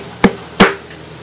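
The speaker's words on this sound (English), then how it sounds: "I am a seal and I can clap my hands." Two sharp hand claps, close and loud, a short gap between them, with nothing else around them.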